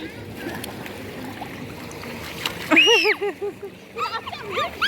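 Water splashes by hand in a swimming pool, a few close sloshes and splatters among lively voices and a child's cries.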